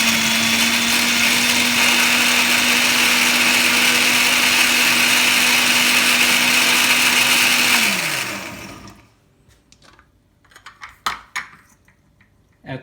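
A blender whirs loudly and steadily through frozen banana, spinach and cinnamon for about eight seconds, then spins down. A few light clinks and knocks follow in near quiet.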